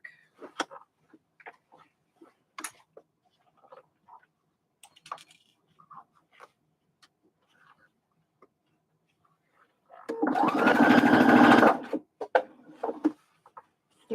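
A sewing machine runs one short, loud burst of stitching on a fabric bucket hat, preceded and followed by scattered light clicks and handling taps in a quiet room.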